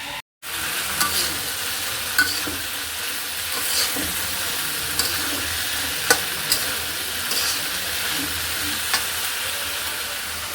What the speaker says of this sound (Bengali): রান্না করতেছি হচ্ছে বুটের ভুনা মটরশুটি দিয়ে